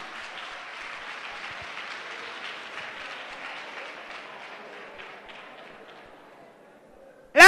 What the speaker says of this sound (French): Acclamez Jésus, je vais voir.